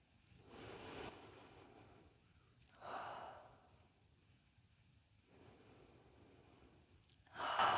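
Slow, audible breaths during a full-body yoga session, with a soft exhale like a sigh early on, another breath in the middle and a louder breath at the end, close and quiet with no talking.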